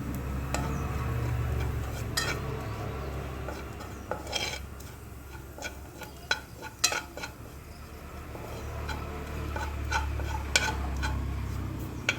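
Spice powders being stirred into mango pickle, with a utensil scraping and clinking against the pot in an irregular run of taps and rubs, close and fairly quiet.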